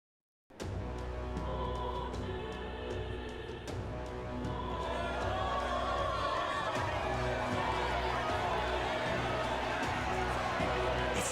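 A cheering crowd welcomes the prince in Metaphor ReFantazio, a dense, steady roar of many voices sustained for the whole stretch over a tonal music bed, swelling slightly louder in the second half.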